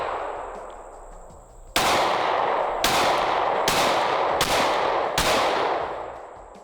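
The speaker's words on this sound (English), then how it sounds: "Let me just shoot a few more rounds." A Glock 26 pistol fires five sharp, loud shots at an uneven pace, each crack followed by a short ringing decay over steady background noise.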